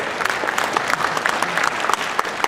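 An audience claps at a security conference talk, a dense burst of many hands clapping that fills the room steadily, close and fairly loud, with no talk over it.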